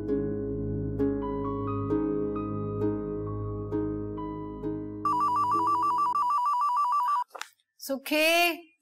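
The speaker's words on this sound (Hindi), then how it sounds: "जरा देखना किसका फोन है" A telephone rings steadily in a quiet home setting in a drama scene, a repeating electronic ring that shifts to a brighter warbling tone before cutting off, followed by brief voice sounds.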